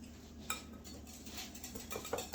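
Pork panko crumbs being stirred in a bowl to break up clumps, with quiet scraping and a few light clinks of utensil against the dish, close and soft, growing slightly busier toward the end.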